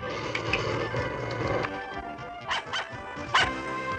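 A hungry cartoon puppy yips, barks and whimpers in short bursts over a busy animated soundtrack with music and effects.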